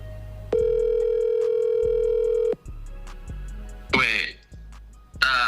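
A telephone tone sounds after a call is hung up, loud and steady for about two seconds before cutting off, followed by soft ticking and a brief voice.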